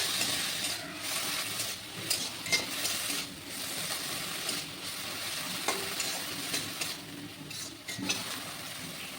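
Mustard flowers dry-roasting with a little salt in a pan, a steady sizzle broken by repeated scraping stirs at an uneven rhythm, close and moderately loud.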